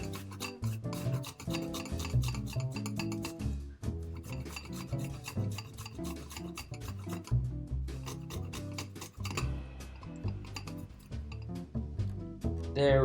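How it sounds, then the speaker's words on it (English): Garlic cloves grated on a grater into a bowl, irregular rasping scrapes in quick strokes, close and fairly quiet. "And I'm gonna just grate the garlic in."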